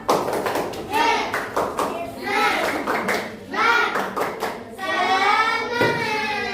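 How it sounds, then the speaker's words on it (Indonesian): A fourth-grade Indonesian class performs patterned group clapping, with brisk bursts of hand claps and thumps in a set rhythm mixed with children's chanting voices, loud and close throughout. "tepuk semangat"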